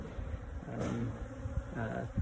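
Honey bees swarm around a hive of cross comb and patchwork comb while cleaning out the comb, making a steady, close buzzing drone that runs throughout with no talking.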